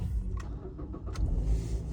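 A car engine starts up close by, a short burst of cranking that catches into a low rumbling idle, fairly quiet and with no talking.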